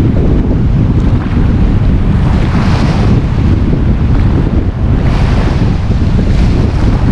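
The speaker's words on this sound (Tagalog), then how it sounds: "Wow, lakas ang hangin talaga." Strong wind roars constantly against the microphone while fishing, buffeting in heavy gusts with rushing water beneath it and no voices.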